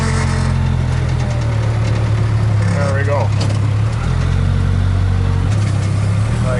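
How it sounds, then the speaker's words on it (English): Farm tractor engine idling steadily with a loader in use, clearing brush and twigs from snow; a continuous low, droning rumble close by under brief talk. "trying to do this one-handed, steering the tractor and running the loader at the same time."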